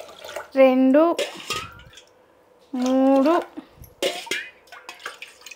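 Glasses of water poured into a pressure cooker for bisi bele bath. Short splashy pours come in separate bursts between a nearby voice counting aloud.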